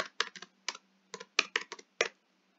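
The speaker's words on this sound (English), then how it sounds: "I obviously don't like typing." Typing on a computer keyboard: close, crisp clusters of keystrokes in an irregular rhythm, about nine quick bursts separated by short pauses, with no talking.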